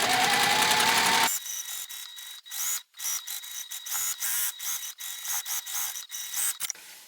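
A sewing machine bastes fabric pieces together, a brief steady mechanical whir at the start followed by soft clicks, taps and fabric handling, close and quiet.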